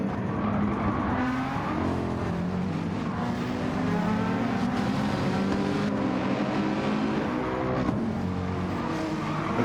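Race cars in Gran Turismo 7 roar through a Manufacturers Cup race, engines droning continuously with layered revving and tire squeal as several cars run close together, loud and unbroken throughout.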